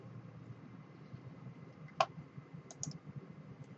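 A single sharp mouse click sounds at close range in a quiet room running CAD software, followed by a couple of fainter ticks a moment later over a low background hum.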